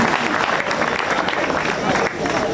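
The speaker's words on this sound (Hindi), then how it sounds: "तालियां जोरदार पीछे तक आनंद के साथ।" Audience applause at an all-India Hindi poetry gathering at a fair in Chhatarpur, a loud continuous burst of many hands clapping with crowd noise, briefly dipping near the end.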